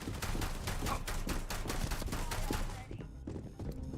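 Rapid automatic gunfire crackles in a dense, steady stream during a shootout in a video game, then breaks off into a few scattered shots near the end.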